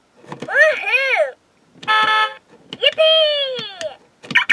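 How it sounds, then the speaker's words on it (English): A 2010 Hasbro My Little Pony remote control toy car plays its electronic tune, bright chirpy synthesized phrases with horn-like beeps and cheerful voice clips, separated by short gaps. "This is the song that plays on that remote."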